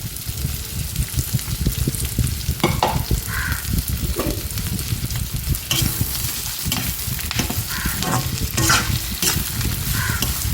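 Onions, curry leaves and anchovies sauté in a pan for a dried-anchovy thokku, a steady close sizzle broken by repeated scraping stirs of the spoon.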